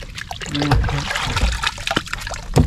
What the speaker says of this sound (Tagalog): Lagyan tubig